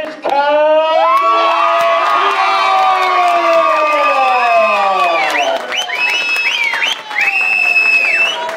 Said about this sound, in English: And a round of applause, ladies and gentlemen, for Bowers